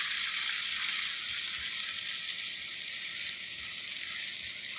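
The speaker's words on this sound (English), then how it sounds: "I'm going to start by putting the onions in a hot pan" Onions frying in a hot pan for chili paneer, a dense, even hiss of sizzling oil with a few soft stirring knocks, close and steady, no voices.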